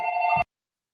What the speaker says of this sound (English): You got a phone call?